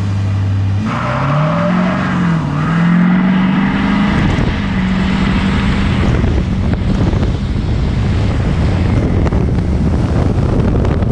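A Ford 6.7L Powerstroke diesel truck fitted with a cold air intake and bigger tires launches hard from standstill to 60 mph in two-wheel drive. The engine note climbs steadily and roars loudly, with heavy wind buffeting the microphone throughout.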